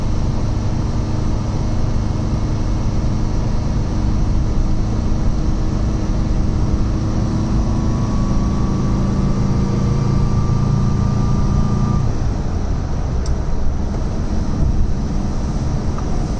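A Lancia Flavia Milleotto LX engine held steady at 2,500 revs while driving gives a continuous low drone with road noise. A faint whine drops away about twelve seconds in.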